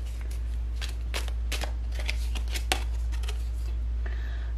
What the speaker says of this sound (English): as I was shuffling this round deck